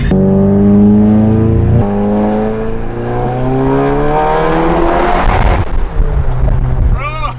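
A 350 HP MK7 Volkswagen GTI revs hard and accelerates, its engine note climbing through rising gears loud and close, then a sharp shift and a fading rush, with people talking and exclaiming over it.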